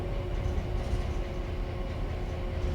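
An MP36PH-3C diesel locomotive in Train Sim World 5, running between San Bernardino and LA Union Station, gives a steady engine drone and rolling rumble with a faint tonal hum, continuous and without speech.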